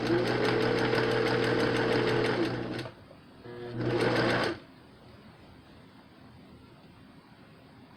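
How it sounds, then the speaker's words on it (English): A sewing machine stitches a Covid-19 fabric face mask, a rapid even mechanical whir that runs for a few seconds, stops, runs briefly again, then falls quiet, close and clear with no talk. "Trying to be careful not to sew on that piece of metal."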